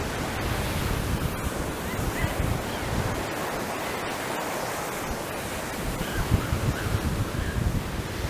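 Ocean surf washing continuously up onto a Punta Cana beach in the Dominican Republic, a steady broadband wash with gentle swells and some wind, no voices over it.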